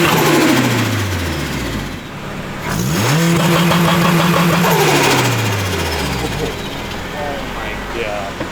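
A turbocharged Acura RSX with a block-off plate revs on two-step launch control, its engine note rising and falling in loud, harsh sweeps with crackling pops in the exhaust, heard close up.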